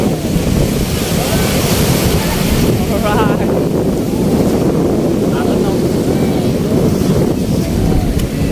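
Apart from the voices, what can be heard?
ocean waves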